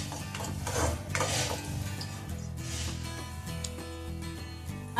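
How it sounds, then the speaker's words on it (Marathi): Tomato-onion paste added to hot oil and stirred in a pan for aloo kobi bhaji, with a spoon clinking and scraping against the metal over a soft sizzle. "यामध्ये हे टोमॅटो आणि कांद्याची जी पेस्ट केली होती ही आपण तेलामध्ये सोडू। छान असे मिक्स करून घेऊ।"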